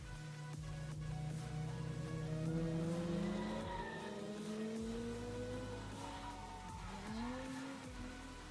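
A Nissan G35 and a red Ford Mustang drift together, engines revving up and down in rising sweeps while tires squeal and skid, fairly loud and close throughout with no talking.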